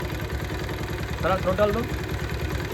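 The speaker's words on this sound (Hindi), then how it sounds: "देखिए बाइक हमारा स्टार्ट है" A Bajaj Pulsar 220F motorcycle engine idles with a steady, low rhythmic chug throughout, close by, while someone speaks briefly over it.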